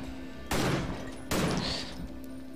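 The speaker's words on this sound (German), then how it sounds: "So, Pumpgun." Two loud pump shotgun blasts from the video game Victor Vran, about a second apart, each a sharp broadband boom with a brief decaying tail, no talk over them.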